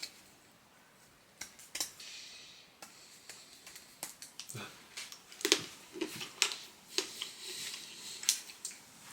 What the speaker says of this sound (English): I use a pair of scissors to put my dark chocolate onto my oats and my yogurt in the morning